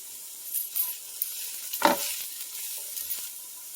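Chicken and the white parts of green onion sizzle in a skillet, a steady soft frying hiss broken by a few stirring scrapes and one louder utensil knock against the pan.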